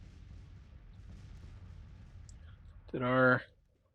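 Artillery bombardment in the Grand Tactician Civil War strategy game: low rumbling field under faint background, then a single loud harmonic burst near the end that quickly fades.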